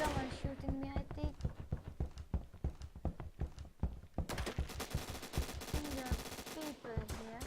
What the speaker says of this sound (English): someone shooting me, I think